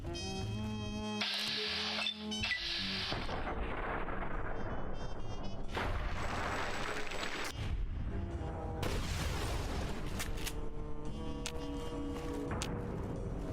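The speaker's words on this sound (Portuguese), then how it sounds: "Viu aí o tamanho da explosão? Ela tava perto de alguma munição." Explosion near ammunition in Fallout: New Vegas, a long stretch of loud, dense booms and crackling blasts that rumble continuously, mixed with bright game sound effects and tonal music-like layers.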